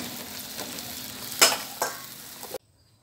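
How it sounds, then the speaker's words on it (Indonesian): Spinach with water and salt being stirred in a pan, a steady sizzle and scrape with a couple of louder spoon strokes midway, close by, cutting off abruptly near the end. "Lalu kita aduk."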